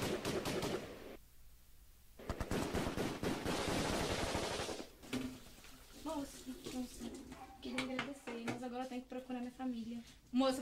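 Gunfire in a dramatic film scene sounds in bursts, loud rattling volleys early on, then quieter distant shots under anxious talking voices.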